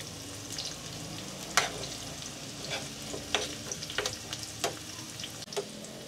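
Onions fry in a pork and coconut milk dish, a soft continuous sizzle with intermittent spoon scrapes and clinks as the mixture is stirred, fairly quiet and close.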